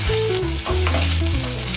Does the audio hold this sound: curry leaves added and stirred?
yes